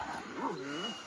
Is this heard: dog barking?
yes